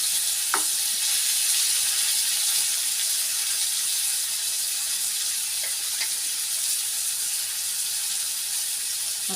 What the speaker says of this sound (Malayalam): അപ്പോൾ ഫിഷ് ഏതാണ്ട് ഫ്രൈ ആയിട്ടുണ്ട്.